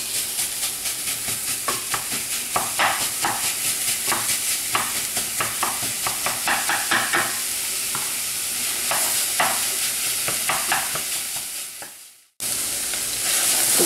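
Ground beef fries over high heat in a pot for Sicilian arancini, a dense sizzling hiss with rapid, irregular scraping and stirring strokes through most of the clip, a brief dropout near the end, then the sizzle resumes.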